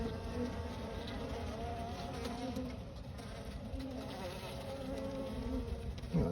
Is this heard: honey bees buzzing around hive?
yes